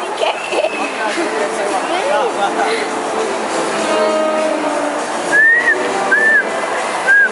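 A person at a shopping mall attempting to whistle, producing a few short, thin, rising whistle notes late in the clip over a busy background of chatter and crowd noise.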